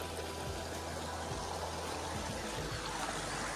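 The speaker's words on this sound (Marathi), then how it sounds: "तर यो गणेशनगर गावचो छोटोसो ब्रिज आहे, त्याच्या खालती मस्तपैकी नाही वाहत आहे." River swollen by monsoon rain flowing beneath a small bridge in Ganeshnagar village in the Konkan, a steady broadband rush of water that continues evenly throughout without pauses.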